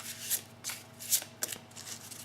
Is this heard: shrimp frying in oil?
no